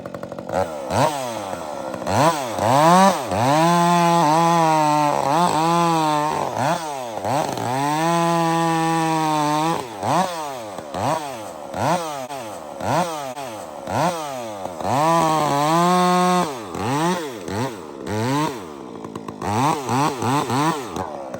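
A chainsaw with a 32-inch bar cuts logs, close and loud. The engine revs up and drops again in repeated cycles, with whining pitch sweeps as the chain bites and eases.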